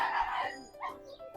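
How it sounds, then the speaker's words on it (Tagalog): A dog acts up wildly at a Sundance Mall in the town of Banff, letting out short agitated yips and whimpering barks, somewhat distant and mixed with background crowd noise. "Ayan pong asong nagwawala."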